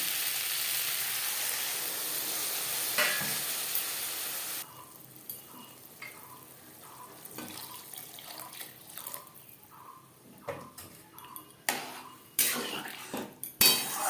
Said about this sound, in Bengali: চার পাঁচ মিনিট আলুর সাথে পেঁয়াজ রসুন মশলা বেশ ভালো করে নাড়াচাড়া করে নেওয়ার পর দিয়ে দেব জল